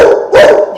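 A dog gives one short, loud, close bark, rising sharply and then trailing off.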